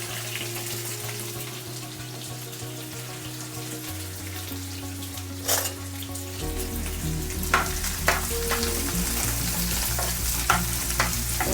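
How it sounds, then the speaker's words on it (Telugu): Onions fry lightly in a pan with cumin and coriander seeds for a spicy stuffed bitter gourd dish, a loud steady sizzle close by, with stirring scrapes and a few sharp clicks partway through and no talking. "కొద్దిగా ఈ ఆనియన్స్ లైట్గా వేయించుదాం."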